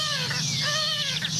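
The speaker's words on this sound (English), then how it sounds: "I've never heard that kind of sound before from this Eurasian collared dove" Eurasian collared dove giving an odd, harsh, undove-like call during spring birding in a gulch: a few rasping, wavering nasal notes repeated close by over a low steady background hum.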